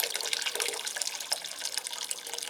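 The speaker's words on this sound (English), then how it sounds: "so we'll just put some warm water in" Warm RO water pours steadily into a half-full bucket, a continuous close splashing and gurgling stream with no voices.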